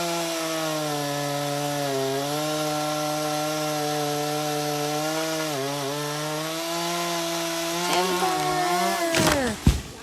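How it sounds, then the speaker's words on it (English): A chainsaw cuts through a tree being felled, running steadily at high revs with slight pitch dips as it bites, loud and close, ending with a brief crack as the cut finishes. "Timber! We have number 3."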